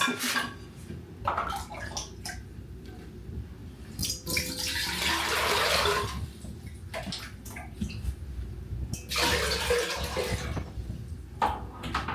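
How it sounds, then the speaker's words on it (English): Water pouring into a cooking pot while preparing a traditional Nigerian lunch, heard in two bursts of splashing flow with quieter gaps between, close and moderately loud. "So I want to add water inside this pot."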